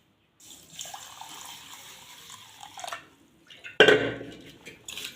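Water swishing and splashing in a bowl as rice is rinsed for a garlic-pepper rice porridge, with a louder slosh and pour toward the end.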